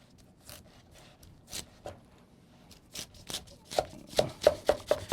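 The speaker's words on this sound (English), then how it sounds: "Now I'm going to put it flat and I'm going to cut it in half" A knife chops through fruit on a cutting board for a Hawaiian fruit salad, a series of crisp cuts growing louder and quicker toward the end, close and alone.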